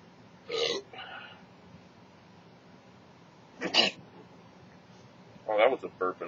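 A loud burp followed by a sneeze, then another burst of throaty noise, with quiet gaps between and no talking.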